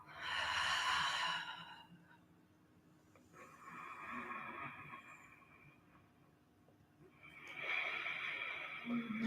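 Three deep exhaled breaths during a power yoga flow, close and audible, the first loudest, with quieter breathing between them.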